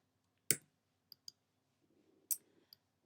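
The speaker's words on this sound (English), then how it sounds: "I'm just clicking anywhere on the page." A computer mouse clicks on a page while box dimensions are set for a ScanNCut cutting machine: one sharp click, then a few lighter ones, and a final firm click with a faint tap after it, in a quiet room.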